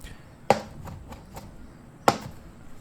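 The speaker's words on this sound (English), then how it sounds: "We're chopping up a bunch of basil." A cleaver chops through a bunch of basil on a board, two sharp, close chops about a second and a half apart with a few lighter taps between them, and birds are faintly audible in the background.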